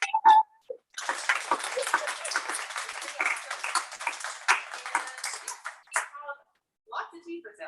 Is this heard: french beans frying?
no